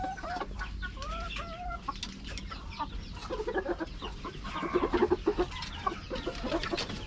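Chickens clucking inside a coop, several birds making overlapping cackles and short clucks at close range over a steady low background hum, growing busier toward the end.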